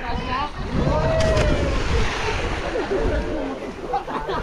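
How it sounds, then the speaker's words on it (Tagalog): Strong sea waves surge and crash around a boat, a loud rushing wash with wind buffeting the microphone, and a voice briefly heard over the roar. "Grabe kusog ang alon."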